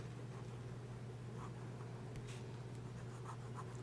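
A medium-nib fountain pen scratches softly across paper in faint, light strokes, set against a steady low electrical hum and background hiss.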